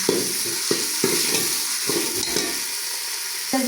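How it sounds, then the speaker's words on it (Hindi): Onions frying in lightly heated oil for a Punjabi aloo matar curry, a steady close sizzle with a few sharp stirring knocks at intervals, no voices. "अब डाल दिया इसके अंदर प्याज।"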